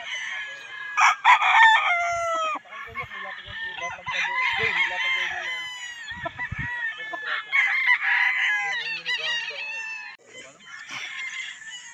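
Several roosters, including a Thompson White gamecock at a game farm, crow and cluck nearby, calls overlapping across the scene, with a few dull thumps and faint talk in the background.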